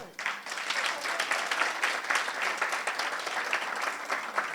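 Sustained crowd applause for an award winner at a household workers awards ceremony, a dense, steady patter of many hands clapping at once, fairly loud and continuous throughout with no talk over it.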